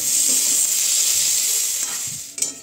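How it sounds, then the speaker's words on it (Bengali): Oil heats in an iron wok before paneer goes in, a steady close hiss of sizzling with faint crackles and a brief sharper clatter near the end, no talking. "বেগুন ভাজা নামিয়ে নিয়ে তারপরে এই যে কড়াইতে তেল দিয়ে দিয়েছি"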